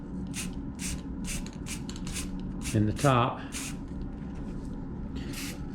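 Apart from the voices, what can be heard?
rattle can spraying clear gloss lacquer onto apple wood vase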